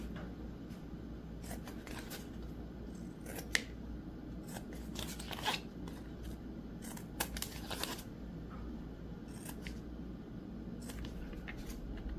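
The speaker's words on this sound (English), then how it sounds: "I just take scissors and I trim, and I'm going to trim the corners as well" Scissors trimming fabric corners of a sewn zipper pouch, a series of crisp close snips in irregular bursts, quiet and alone.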